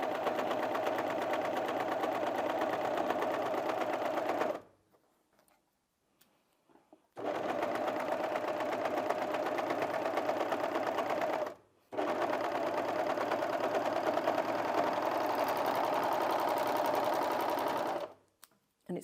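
An overlocker machine stitches a cushion seam in one pass, its loud, rapid mechanical whirr running in three long continuous bursts separated by brief pauses.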